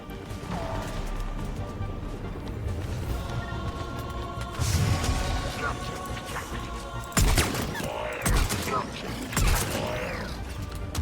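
Incendiary-round gunfire in Mass Effect 3 rattles and cracks in bursts, with sharp impacts and mechanical clatter over a low ambient hum. A voice talks intermittently between the shots.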